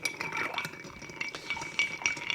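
A drink being stirred over ice, with soft, quick clinks and scrapes repeating close by at low volume.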